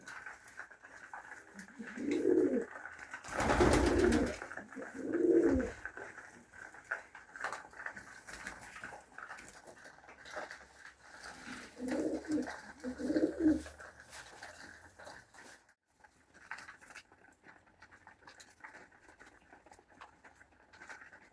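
Pigeons coo softly in short bursts while light tapping and pattering sounds come and go, with a quiet background and a louder clatter early on.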